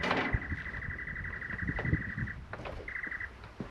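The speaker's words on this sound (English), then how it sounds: "Beautiful bird life." Outdoor birds calling during an open-air plein air painting session: a fast repeated trilling call runs for about two seconds, returns briefly after a pause, with scattered chirps and soft background handling noise.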